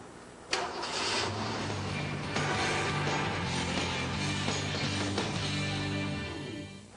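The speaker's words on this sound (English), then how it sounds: "Go ahead and start the car" A Ford Mustang engine cranks and catches with a sharp start, then settles into a steady, close idle with a slight rev partway through.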